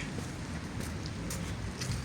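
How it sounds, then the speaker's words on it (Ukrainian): Rain pouring down outdoors in October near a small fir tree, a continuous dense patter with occasional louder drops, steady and fairly close with no voices. "Тут дощ такий почався. Нормальний, дивіться, який дощ."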